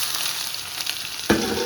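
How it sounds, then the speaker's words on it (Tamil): Onion, garlic and dried chili sauté in hot oil for a sambar with drumstick leaves, a steady close sizzle that jumps to a louder crackle as something is stirred or added near the end. "இது வந்து நல்லா வதங்கணும்."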